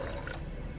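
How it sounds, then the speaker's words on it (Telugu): Water pours briefly into a pressure cooker while black-eyed peas are being boiled for a guggillu snack, a short close splash and trickle lasting under a second. "అయితే ఒక కప్పు వాటర్ వేసుకుంటున్నాం"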